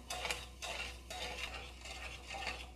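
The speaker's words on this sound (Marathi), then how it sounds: "आता आपण एकसारखं चमच्याने हलवून साखर वितळून घेऊयात" A spoon stirs sugar in a pan over a medium flame, melting it for rava ladoo, making repeated scraping sweeps against the metal in a steady rhythm, close and fairly quiet, with a low hum beneath.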